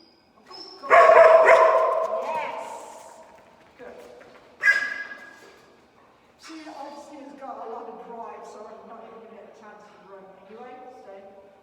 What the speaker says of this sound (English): you couldn't hear me above the barking